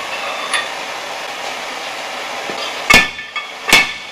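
A heated part is hammered onto a Jeep axle: two loud, sharp metal blows land close together near the end, with a lighter tap between them, over a steady background hiss.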